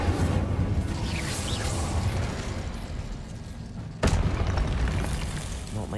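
Spell explosions from the video game Hogwarts Legacy, a dense rumbling barrage of booms with whooshing bursts, loud and continuous, with a sharp fresh blast about two-thirds through.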